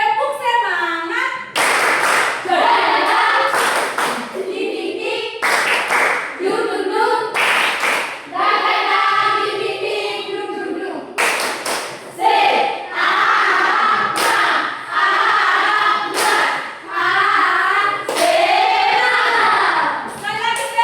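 A classroom of students claps a rhythmic spirit-clap pattern in loud, repeated bursts while their voices chant along.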